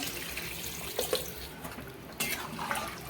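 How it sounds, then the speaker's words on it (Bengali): Water poured into a pan of potatoes and prawns on the stove, a short steady gushing pour with a slight splash, close and continuous. "এখন আমি জল দিয়ে দিচ্ছি"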